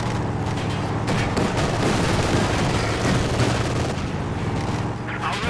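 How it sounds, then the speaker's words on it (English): Vickers and MG42 machine guns trade fire in Company of Heroes, a dense, continuous battle din of rattling bursts and booms that stays loud and steady throughout. "using it as Vickers machine gun to push away the MG42 in the north"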